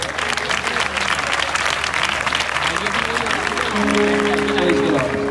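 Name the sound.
loud applause welcoming a pastor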